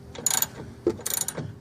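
Nerf bar bolts on a 1999 Toyota Tacoma are tightened with a ratchet, giving two quick bursts of close clicking pawl strokes separated by a brief pause.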